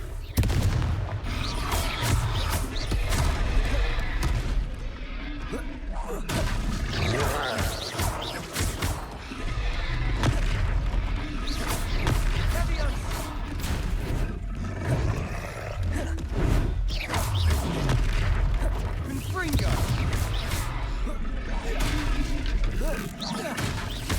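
Confringo fire spells blast repeatedly in Hogwarts Legacy combat, a dense run of booming explosions and roaring impacts throughout, with game voices shouting in between.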